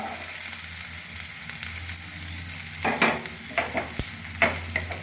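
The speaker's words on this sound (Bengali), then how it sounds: "একটু নাড়াচাড়া করে ক্যাপসিকাম কুচি দিয়ে দেবো।" Chopped garlic, chilli and capsicum stir-frying in a pan for chilli bread, a steady close sizzle broken by several scraping stirs of the spatula in the last couple of seconds.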